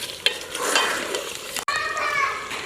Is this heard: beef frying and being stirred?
yes